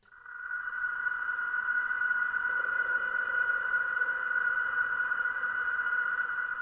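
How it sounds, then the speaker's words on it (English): Rusty gate creak processed through an impulse reverb from a station, glitched and fed through two delays, turning into a sustained, droning tonal ring that holds steady for several seconds. "So that's the Rusty Gate run through an impulse from the station, glitched a bit, and then through a couple of delays."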